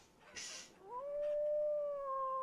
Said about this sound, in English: That's my dog in game howling,